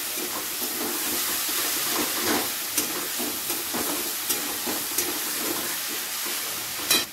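Garlic paste with onion and tomato in hot oil sizzling steadily in a pan, a close continuous frying hiss punctuated by small crackles and occasional stirring scrapes.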